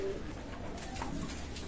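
Chinese Teddy running pigeons coo softly at a pigeon loft, a brief low call half buried in a dense, noisy background.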